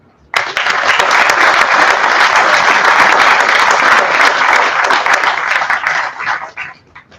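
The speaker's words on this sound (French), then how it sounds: "ça, je pense que ça mérite des applaudissements" An audience at a 2021 CFC certificate ceremony breaks into sudden, loud, dense applause that holds steady for several seconds before thinning out and fading near the end.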